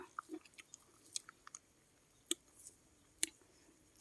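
Someone eating garden-picked fruit such as blueberries, with soft, close chewing and a scatter of small crisp bites and clicks at an irregular rhythm, quiet with no talk.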